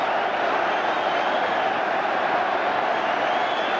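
Large football crowd at an Arsenal v Spurs match, a steady broad roar of applause and cheering from the stands, distant and continuous with no break.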